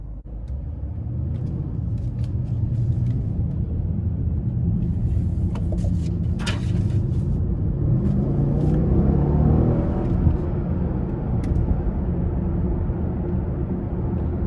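A 2017 Mercedes-Benz CLS 550 4MATIC with a turbocharged engine accelerates from inside the cabin, a steady low rumble rising in pitch and swelling under continuous road noise, with no talking.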